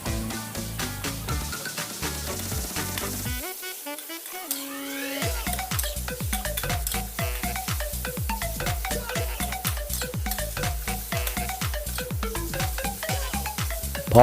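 Chicken sizzles in a hot wok with oil and garlic while a utensil stirs and tosses it in steady, rhythmic scrapes, close and fairly loud.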